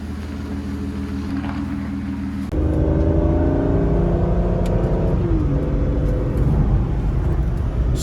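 An Aston Martin engine idles low and steady at close range, then kicks up to a louder, fuller rumble partway through and holds there, with no voices.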